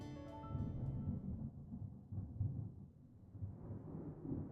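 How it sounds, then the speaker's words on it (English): Low, rolling thunder rumble in the video game Deadly Premonition 2, a sustained dense roar that swells and ebbs over several seconds, with faint music tones fading at the start. "And that sound. Thunder snow is coming."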